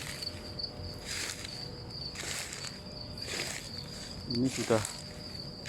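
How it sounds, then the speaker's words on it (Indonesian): Crickets chirp steadily at six in the morning, a continuous high trill running throughout, joined by pulsing insect bursts, while someone speaks briefly near the end. "jam 6 pagi ini, jangkrik masih bunyi saudara."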